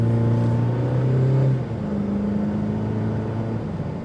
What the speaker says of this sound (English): The engine comes in,